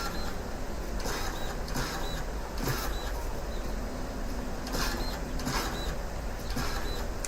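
The dirt printer machine in the video game Dinkum runs with a steady, loud mechanical whir and rattle, with periodic brighter clanking bursts repeating throughout and no talking.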